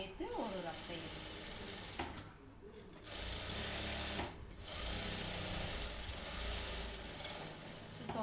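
Sewing machine running a rough stitch along an embroidered blouse seam makes a steady, close mechanical chatter that dips briefly twice before resuming, with a voice talking underneath.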